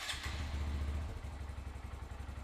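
A Honda Grom motorcycle idles on its stock exhaust, giving a low, steady, mellow putter with an even pulsing rhythm. It is fairly quiet and heard alone, with no other sounds over it.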